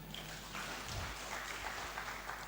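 Soft, even applause from a conference audience at an international AI event, a steady low patter of clapping heard at a distance without anyone speaking over it.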